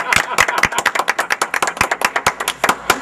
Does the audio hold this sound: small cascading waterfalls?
no